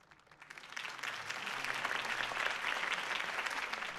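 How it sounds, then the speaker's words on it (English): A crowd in the Batman Telltale Series game applauds a campaign speech. The clapping swells from a few hands into dense, sustained applause that holds steady at a moderate level. "could have heard that applause"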